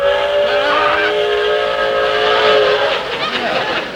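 A steam train whistle in an old comedy show sounds as a loud, sustained multi-tone blast lasting several seconds, with faint background sound beneath.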